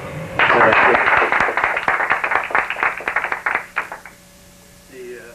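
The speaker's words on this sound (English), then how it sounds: "I think we owe them a little special applause for that." Audience applause at a reunion of former Stalag Luft I prisoners of war: a loud burst of many hands clapping that starts abruptly, thins into scattered claps and fades out after about four seconds, leaving quiet room tone.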